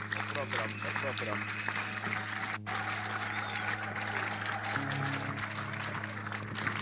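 Clapping from a church congregation welcoming an archbishop, steady and mixed under speech, a hum and other crowd noise throughout.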